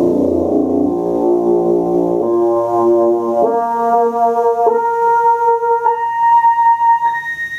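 An OHMs wind instrument sounds seven bass octaves in turn, each a sustained, loud tone that steps up to a higher pitch every second or so, played close with no talk.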